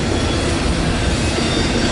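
A Canadian Pacific Kansas City freight train loaded with auto racks passing along the north shore of Lake Superior, a loud continuous roar and rumble close by, with no breaks.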